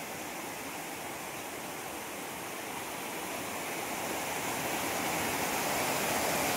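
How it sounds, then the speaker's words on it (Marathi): Heavy streams of rainwater pour down near a house yard, a dense, steady rushing roar that grows slightly louder over several seconds, with no voices. "हे बघा काय धारा लागल्यात."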